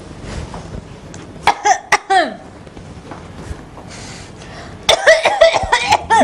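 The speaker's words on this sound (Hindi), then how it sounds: "अगर तुम्हें इतनी खांसी हो गई है तो कुछ लेती क्यों नहीं तुम?" A woman in a Hindi TV comedy scene coughs loudly and close up in several harsh bursts, a cluster early on and another string near the end, with quieter pauses between.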